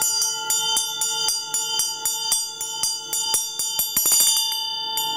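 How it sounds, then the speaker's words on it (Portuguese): A traditional Tibetan Buddhist hand bell rung in steady repeated strikes, bright sustained metallic tones overlapping into a shimmering ring that swells near the end, close and alone. "Simplesmente toca o sino dessa forma."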